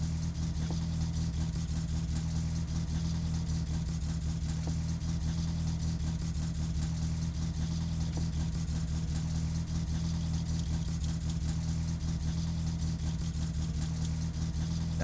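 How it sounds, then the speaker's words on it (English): Loud, rough engine drone in My Summer Car running with no exhaust fitted, a steady low hum holding constant throughout with a harsh, raspy, unmuffled tone and no speech. "I should put the exhaust on so that I don't have this damn noise."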